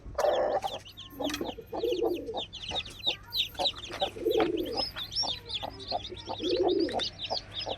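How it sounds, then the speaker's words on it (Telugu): Busy chorus of high, rapid country chick cheeps close by, hatched overnight and this morning, mixed with lower clucking calls from grown hens repeating every second or two. "ఈ కోడి పిల్లలు"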